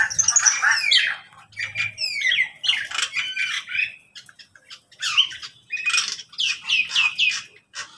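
Bali mynas in a cage give loud, harsh squawks and rising chirps in repeated bursts, close by and with no other voices.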